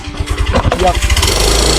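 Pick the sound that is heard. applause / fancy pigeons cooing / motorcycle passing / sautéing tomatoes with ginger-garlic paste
motorcycle passing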